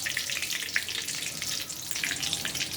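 Cumin seeds and a bay leaf sizzle in hot oil in a pan, a continuous crackling, spattering fry with small pops, fairly close and steady throughout.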